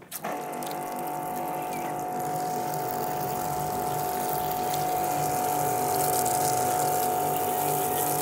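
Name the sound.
water running from a hose over a car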